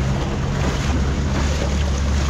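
Heavy monsoon rain and deep floodwater surround a car driving from Sangameshwar toward Nalasopara, producing a loud, constant roar of splashing water and rain over a deep rumble, with no break or pause.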